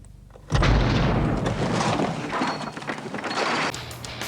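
A sudden deep boom from a car explosion bursts out after a quiet moment, followed by a long, rough rumbling roar that slowly fades.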